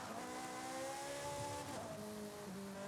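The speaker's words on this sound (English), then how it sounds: "This Ferrari does sound pretty good there" A high-pitched Ferrari racing engine in Forza Horizon 5 whines steadily and shifts through gears, with tire noise underneath, sounding thin and synthetic like game audio.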